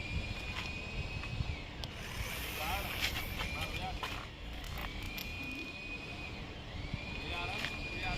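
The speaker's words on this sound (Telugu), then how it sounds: "ఈ చిన్న ఏరోప్లేన్ కూడా ఎగురుతుంది" A small remote control aeroplane flies nearby, its thin high-pitched electric motor whine rising and falling as it passes, over breezy outdoor noise with people talking throughout.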